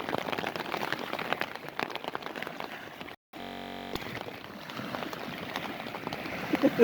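Steady rain patters on a surface nearby, with scattered drops tapping irregularly; a brief dropout interrupts it midway.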